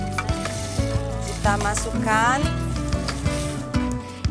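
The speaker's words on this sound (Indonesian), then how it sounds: "ketannya, kita aduk, tunggu sampai mendidih" Glutinous rice is stirred in coconut milk in a pot, giving soft scraping and a faint simmering sizzle with light knocks, mostly under a person talking.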